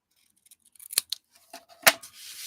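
Scissors snip paper for a handmade card, with a few crisp close cuts and small rustles, including two sharp louder snips, in an otherwise quiet room.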